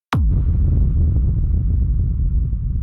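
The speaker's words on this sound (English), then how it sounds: "Next up is a sine shaping distortion" A hard techno rumble kick run through sine-shaping distortion with LFO-modulated drive, one sharp kick followed by a long, loud, distorted low rumble that pulses steadily for nearly three seconds with no voices.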